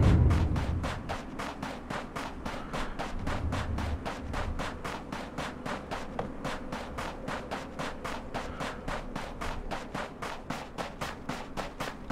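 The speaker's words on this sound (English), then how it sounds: "That's hard shooting over in this direction." A rapid, evenly spaced train of gunshots from the battle royale video game Ring of Elysium keeps going for several seconds at a steady cadence. It sounds moderately distant under a low background rumble.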